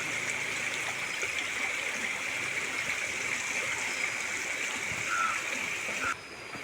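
Village stream running high after two days of heavy rain, a steady rushing and splashing flow heard up close and continuous, with no talk over it.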